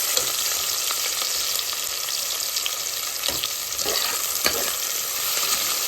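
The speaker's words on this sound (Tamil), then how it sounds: "ஆனியனும் அதே மாதிரி தான் நம்மளுக்கு பொன்னிறமாக ஃப்ரை ஆகணும்" Sliced onions fry in oil for egg biryani, a dense continuous sizzle with occasional sharp scrapes of stirring, close up and steady throughout, with no speech.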